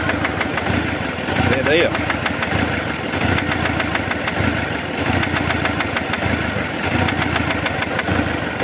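A Nissan Frontier engine runs badly out of timing at idle, a loud, rough, uneven pulsing with a fast irregular beat heard close up, while someone talks over it.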